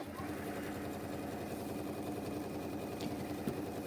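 A sewing machine runs a continuous straight stitch across a quilted spring table mat, a steady rapid mechanical whir with fine repeating needle clatter throughout, close and moderately loud, with a faint low voice in the background.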